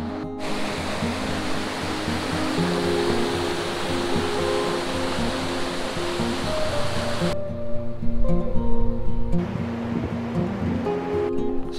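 The River Eden flows beside a riverside walking path between Armathwaite and Wetheral, a continuous rushing of water close by that stays steady and fairly loud throughout, with no voices.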